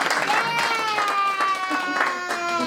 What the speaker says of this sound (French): Applaudissez aussi pour sa doublure.